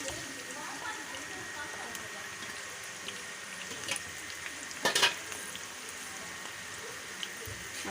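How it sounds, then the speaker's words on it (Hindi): Roughly chopped onions fry in hot oil for a dhaba-style bhindi masala, making a soft, steady sizzle broken by a few clatters of stirring, with someone talking over it. "अब इसी ऑयल में मैंने जो है प्याज को फ्राई करना है।"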